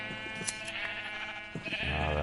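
Sheep in a pen bleat in the Minecraft video game, a few short nasal bleats, one near the start and more toward the end, over a steady game background.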